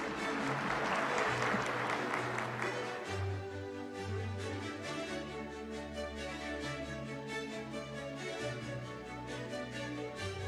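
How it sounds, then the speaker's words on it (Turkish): Steady audience applause at a ceremony, a continuous wash of many hands clapping at moderate volume throughout, with low background hum and no voices. "bir alkış rica edebilir miyiz lütfen?"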